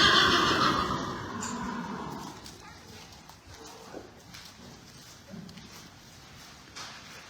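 A horse whinnies loudly at the start, close by, during a stable visit in Aiken, South Carolina, with horses about; the call fades after about two seconds, followed by quieter rustling and a few faint sounds.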